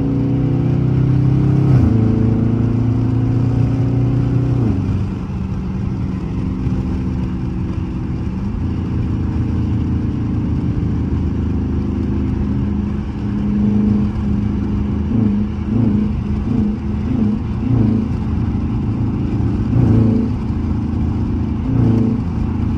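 Dodge Charger RT on a highway, its engine droning loud and steady from inside the car, rising in pitch through pulls with audible shifts between gears and no talking.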